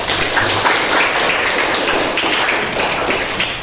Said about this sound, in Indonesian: Aplaus dulu buat Aulia